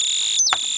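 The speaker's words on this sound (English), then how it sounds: "sent out by the timer multivibrator drives the bird's chirp" Electronic bird chirp generator circuit driven by a multivibrator timer: steady high electronic tones, then a single quick, falling chirp sweep midway, loud and close with no talking.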